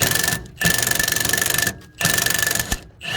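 A Milwaukee power tool works on a bolt of a 1972 Corvette 454 LS5, rattling in three loud bursts of rapid impacts separated by short pauses, close up.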